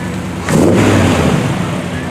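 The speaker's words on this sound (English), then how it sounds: "Jeff Barnett and his El Camino." A Chevrolet El Camino's engine revs up at a small-town Minerva Day parade, a loud mid-pitched surge that swells and holds under crowd chatter and talk.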